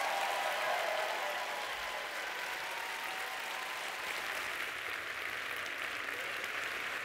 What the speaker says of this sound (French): Donc, on les applaudit à tout rompre, je vous en prie.